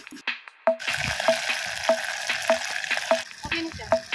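Clams fry on a street-food stall's pan, a continuous close sizzle with stirring, punctuated by repeated quick metallic taps in a steady rhythm.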